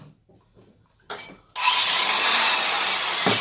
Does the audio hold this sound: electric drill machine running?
yes